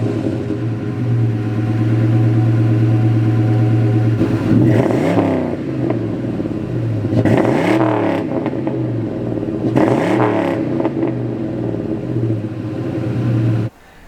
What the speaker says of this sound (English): I'll let you guys listen to that. It's definitely got an exhaust.